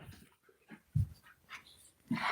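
A puppy makes soft whimpers, pants and small yelps in short bursts, fairly close and faint, with no talking over it.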